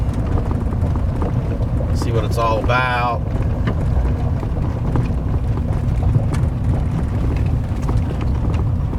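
A new boat with a four-stroke outboard motor running during break-in, a steady loud engine drone mixed with wind buffeting the microphone, while a person speaks briefly over it.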